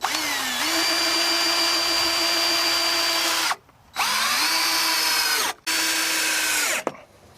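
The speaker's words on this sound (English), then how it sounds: "I'm going to start by putting 3 screws on each corner." A cordless power drill drives screws through cement board into the wood below, whining up in three long close bursts separated by short pauses, with no talking.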